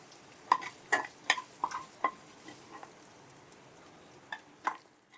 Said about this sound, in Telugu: పన్నీర్ ఇలా వేయించుకుంటే